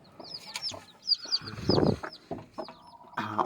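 Black Karunkozhi hens clucking in short bursts with chirpy calls, one hen brooding on eggs, a busy farmyard mix of fowl sounds at close range.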